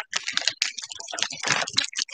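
Scissors cut through the plastic zipper top of a Ziploc bag, close and fairly loud, a rapid run of crisp snipping and crunching clicks.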